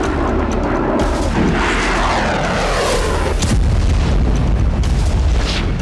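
Heavy booming blasts from a missile strike roll through a loud, continuous wall of rumbling noise, with several sharp impacts standing out and no voices.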